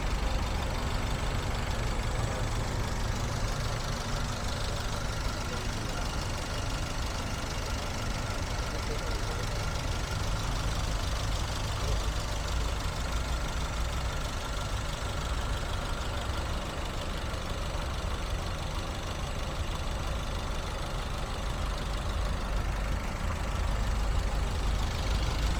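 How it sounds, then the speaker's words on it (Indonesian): A 2014 Toyota Avanza G manual idles steadily for the whole stretch with a constant, even engine hum and no revving, and a faint voice can be heard now and then. "teman-teman fokus untuk dengar suara irama mesin"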